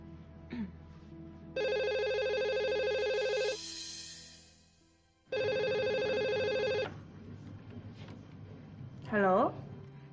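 A telephone rings after a call is placed: two long electronic ring tones split by a short pause, loud and close, followed by a brief rising chirp.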